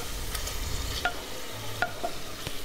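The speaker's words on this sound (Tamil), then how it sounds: "இப்போ இந்த வெங்காயம் தக்காளியோட நல்லா அந்த ஈரலை மிக்ஸ் பண்ணி விடுங்க" Mutton liver is stirred into a frying onion-tomato masala with a spoon, producing soft sizzling and intermittent scraping clinks against the pan, close and moderately quiet, with no talking.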